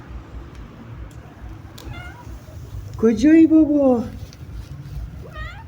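A cat lets out one drawn-out, fairly loud meow mid-way, with fainter mews around it, while a man calls softly nearby over steady background hum.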